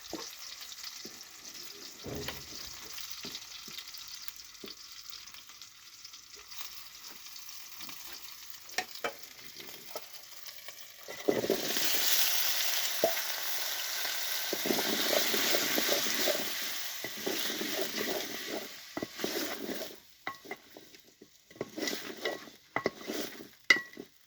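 Onions are dropped into hot oil in a home kitchen, giving a broad sizzle that rises sharply midway and then fades, with stirring and utensil clatter near the pan and no talking.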